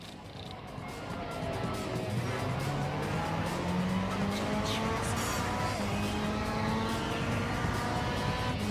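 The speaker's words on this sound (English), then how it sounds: "this engine actually sounds kind of cool" A racing car engine in the video game Gran Turismo 7 roars steadily with rising and falling gear pitch, and tires hiss and squeal underneath during the race, loud and continuous without talk.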